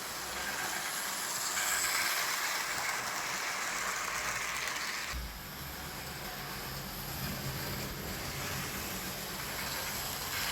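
A model railway Class 47 diesel locomotive hauling coaches at a slow pace, producing a steady, soft rolling rumble with light wheel clatter that eases slightly partway through.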